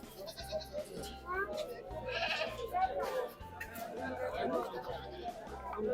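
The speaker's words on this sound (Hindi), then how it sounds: "तो ये रहा हमारा बकरा।" Goats bleat at a Bakra Mandi livestock market in Al Ain, UAE, several short nasal calls rising over a busy crowd of overlapping chatter, with a low rhythmic rumble underneath.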